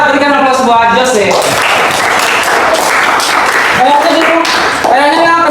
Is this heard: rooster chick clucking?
no